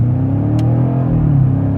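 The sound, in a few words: BMW M5 accelerating hard off the line at half throttle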